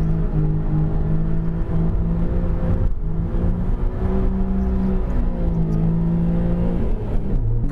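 A Subaru Pleo kei car engine revs steadily and loud throughout while drifting, its harmonic whine rising and dipping with throttle changes, with no voices.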